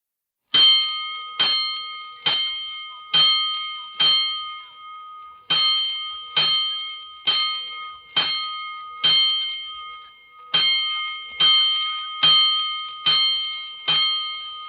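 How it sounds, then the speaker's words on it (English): A firehouse alarm bell in a 1949 radio drama rings in rhythmic groups of loud, bright metallic strikes, five then four then five then four, each ringing out briefly, with no talk over them. "Attention, all districts. A 5-alarm fire. 5 bells."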